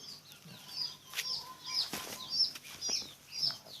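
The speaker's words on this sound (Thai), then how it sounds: "ไก่เขาก็จะชอบ แตกปีกนะครับแตกปีกแตกขนอยู่" Repeated bursts of chickens flapping their wings, with a few soft clucks, several flurries spread across the clip at moderate distance.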